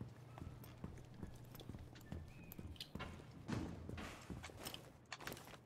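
Horse hooves clip-clop in Rainbow Six Siege, a quiet, steady walking rhythm of hoofbeats with faint in-game mechanical noises and a soft neigh in the background, no one talking.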